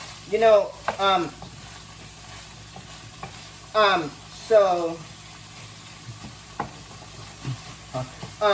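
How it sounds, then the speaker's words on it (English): Ground beef frying and browning in a pan, with a soft continuous sizzle and scraping stirring, while a person talks intermittently over it. "I'm just cooking this ground beef until this meat is nice and browned."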